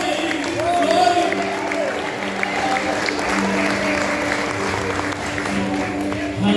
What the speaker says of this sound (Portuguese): Que aplauso é esse, queridos?